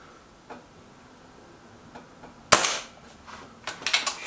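A Kral Puncher K air rifle fires a test shot: a sharp, loud crack after a few faint mechanical clicks, followed by a rattling burst of clatter, with no talking.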